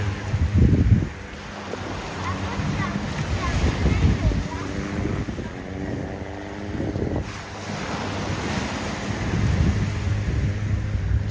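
Waves wash and churn against the seashore at Krabi, Thailand, with strong wind buffeting the microphone and voices talking over the surf throughout.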